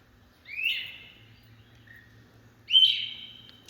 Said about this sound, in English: I call them the weepers. They kind of go, weep, weep.